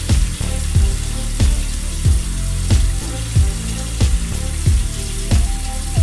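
Tap water running into a kitchen sink while dishes are washed, a steady rushing flow with repeated low splashing thumps at a regular pace, close and alone.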